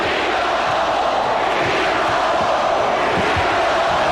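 A crowd of 19,000 basketball fans in an arena chants during a 1993 Suns versus Sonics game 7, a dense, continuous roar of voices with rhythmic shouted pulses, loud and steady throughout.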